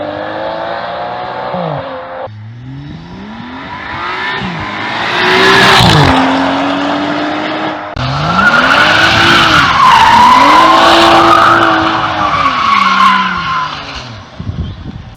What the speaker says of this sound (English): the combination of the full straight pipe with no muffler